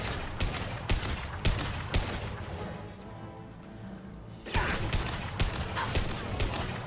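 Sharp gunshots in Mass Effect 2 crack out in irregular bursts, loud and close, with a brief lull in the middle before the firing picks up again.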